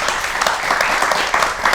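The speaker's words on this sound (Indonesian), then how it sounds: "Boleh saya minta tepuk tangannya?" A studio audience at a televised talk show on the state budget applauds in a dense, steady wash of clapping, loud and close, for under two seconds without talk.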